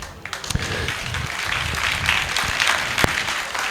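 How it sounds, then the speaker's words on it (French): Audience applause for a singer at a televised July 14 show in France, a broad steady wash of clapping with a few sharper individual claps standing out, no voices over it. "Je voudrais qu'on l'applaudisse"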